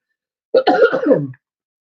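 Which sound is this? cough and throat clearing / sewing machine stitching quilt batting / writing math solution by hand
cough and throat clearing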